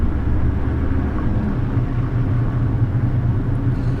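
A car driving in the Tourist Bus Simulator video game, a steady low engine rumble and road drone holding at an even level throughout.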